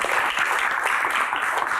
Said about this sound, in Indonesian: Sekali lagi tepuk tangan untuk Kang Sule.